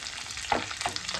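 Chopped carrot, potato, onion and green chillies fry in a pan for pasta, a close, brisk sizzle with a few stirring scrapes.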